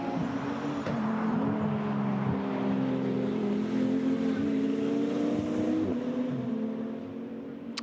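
KTM and Porsche GT2 race cars accelerate hard at Spa, their engines a loud, continuous rising roar with layered harmonic whine that holds steady for several seconds before easing slightly at the end.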